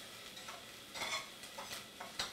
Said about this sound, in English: I'm going to drop that on, and I'm going to saute these onions.